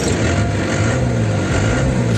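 Suzuki Vitara fitted with a swapped Isuzu 4JB1T turbo diesel engine idling, a steady low rumbling drone with a slight pulsing throb, close and continuous.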